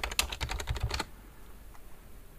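A computer keyboard clatters in a brisk run of close keystrokes for about a second while a material is renamed, then the room falls quiet.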